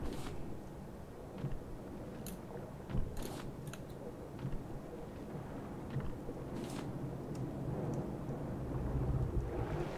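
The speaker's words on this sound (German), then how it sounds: "Regen." Steady rain in the survival game Raft, a soft wash of noise falling around an ocean raft, with scattered faint taps and a low rumble swelling toward the end, no voices.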